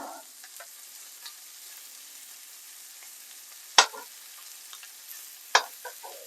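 Moroccan meatballs fry in a very hot pan with a soft, steady sizzle, broken by two sharp clacks of a utensil against the pan.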